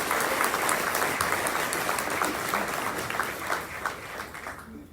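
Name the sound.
applause at induction ceremony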